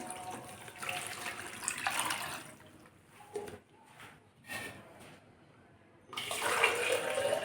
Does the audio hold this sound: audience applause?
no